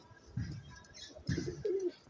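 A Budapest pigeon coos up close in a few soft, low, throaty bursts with brief pauses between them, and nothing else in the background.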